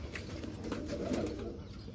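Soft cooing from a female pigeon, kept by a pigeon fancier, sounding close and steady over a faint background hum with no talking.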